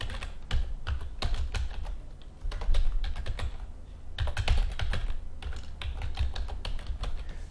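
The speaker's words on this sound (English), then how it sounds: "So go ahead and type that in the location." Someone types a web address on a computer keyboard: quick, irregular bursts of close, crisp keystrokes with short pauses, and no voices.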